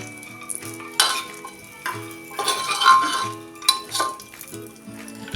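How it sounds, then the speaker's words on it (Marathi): Raisins, black currants and dry fruits stirred in ghee in a pan while making sweet mango preserve, with several distinct clinks of a spoon against the metal pan over a soft background sizzle. "हे थोडे काळे मनुके घेतलेत ते आपण टाकून घेऊया आणि हे आता तुपावर आपण एक दोन मिनटं चांगलं परतून घेऊया"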